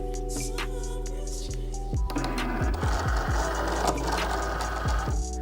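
A Cricut cutting machine draws a cutting mat in with a steady mechanical whir and a series of clicking, thumping motor pulses, close and alone.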